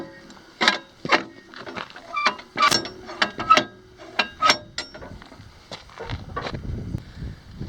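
An old mine shaft hoist runs with clanking gears and a large flywheel, producing irregular metallic clacks and knocks over a rumbling mechanical bed, close and fairly loud.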